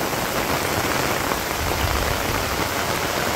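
Heavy rain falls on a Bangladesh village as a dense, continuous roar of drops, loud and steady throughout, with no one speaking.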